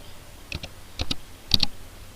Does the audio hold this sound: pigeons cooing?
no